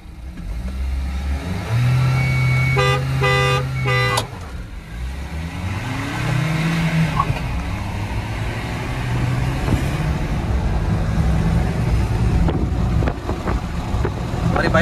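Engines of a Mahindra Thar petrol 4x4 and a tuned Tata Safari diesel roar and rev in an outdoor drag race, loud and sustained with rising and falling pitch, heavy wind buffeting and a brief horn-like burst early on.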